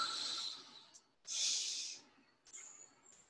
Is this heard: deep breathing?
yes